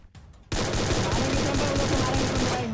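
Dense, continuous automatic gunfire from a battle royale video game erupts after a brief quiet start, a loud, sustained rapid-fire burst that runs to the end with little break.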